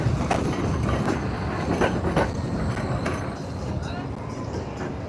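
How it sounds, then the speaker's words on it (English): A tram rumbles and clatters along the tracks close by in Blackpool, a loud continuous roar of wheels with rhythmic clicks, voices faintly mixed in. "You wait all day for a tram and two come along at once."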